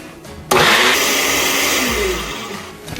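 An electric mixer whirs on loudly and beats cake batter with a drop of food colour, a steady high-pitched motor drone that eases slightly before cutting off.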